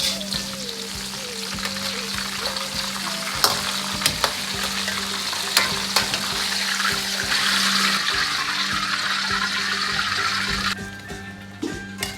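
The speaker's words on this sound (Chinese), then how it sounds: "炸至汤圆都漂浮在油面，颜色黄亮，即可捞出控油。" Glutinous rice balls (tangyuan) deep-frying in hot oil over medium heat, a dense, steady sizzle and bubbling close by that holds for most of the clip, easing and thinning toward the end.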